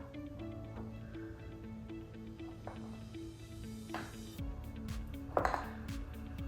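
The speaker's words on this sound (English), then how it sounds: "And now we just have to mix them all up." Overnight oats ingredients are stirred together in a container, with faint intermittent clinks and scrapes of a utensil against the dish over a low background hum.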